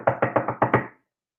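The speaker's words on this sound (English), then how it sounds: "She knocked on the door." Five quick, firm knocks on a wooden cottage door sound close and loud in an even rhythm, then silence follows.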